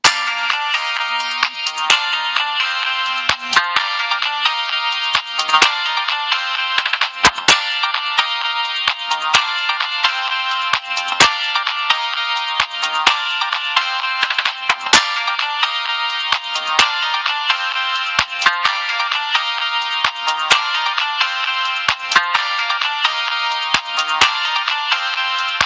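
Ringtones from a Motorola C168i mobile phone play one after another, bright polyphonic electronic melodies with sharp, evenly repeating notes, loud and clear with no voices.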